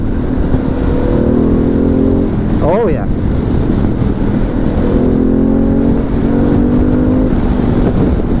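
A Harley-Davidson Pan America motorcycle kicks down into fourth gear, its engine droning loudly and rising steadily in pitch over wind rush, with a short pause midway and a rider briefly speaking.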